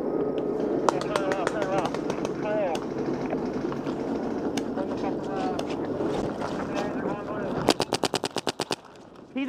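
Paintball guns fire during a paintball game, first as scattered sharp pops under outdoor chatter and shouting, then as a rapid burst of about ten close shots near the end.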